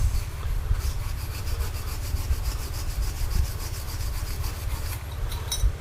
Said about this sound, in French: On va la brosser avec la laine d'acier.